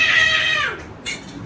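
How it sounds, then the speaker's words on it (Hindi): A cat meows in a home kitchen, one drawn-out, fairly loud meow that falls in pitch, followed by a short, fainter sound. "और आ गई है बिल्ली,"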